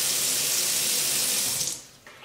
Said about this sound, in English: it is a touch faucet, so you can touch anywhere on the faucet and it'll turn off and on